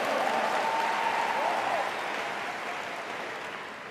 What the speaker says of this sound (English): Give yourselves a round of applause for coming to the National Convention.